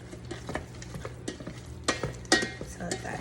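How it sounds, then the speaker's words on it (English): Ground beef browning in a frying pan is stirred, giving soft scraping strokes and bursts of sizzle, with a louder pair of scrapes near the end and a steady low kitchen hum underneath. "Do a little stir action."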